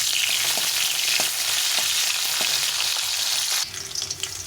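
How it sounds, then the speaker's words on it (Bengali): Capsicum being lightly fried in oil, a dense close sizzle with scattered pops and faint stirring, running steadily before dropping to a quieter, softer hiss near the end; no talking. "ক্যাপসিকামটা বেশি ভাজা হয়ে নেই হালকা করে একটু ভেজে নেবে"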